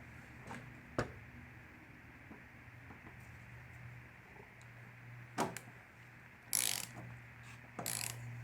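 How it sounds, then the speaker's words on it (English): A spanner tightens a nut on a Toyota Camry fuel filter, heard as a few scattered metallic clicks and clanks over low hum, faint and close. "I've got my spanner positioned down there underneath, and now I'll undo. I'll tighten up the top. Nut there."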